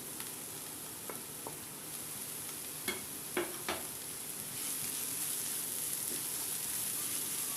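Carrot and cabbage sauté in a pan with onion, ginger and garlic, a steady close sizzle broken by a few sharp taps and scrapes of a spatula.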